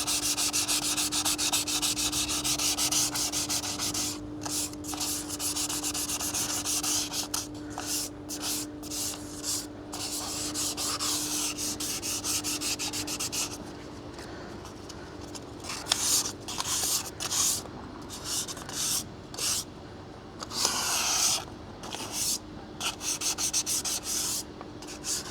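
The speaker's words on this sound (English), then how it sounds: "let's hit that one spot of rust. Got some good old 800 grit here." Rust spot being sanded by hand with 800 grit sandpaper, a steady close scratchy rubbing that runs the whole stretch in quick back-and-forth strokes with short pauses, no talking.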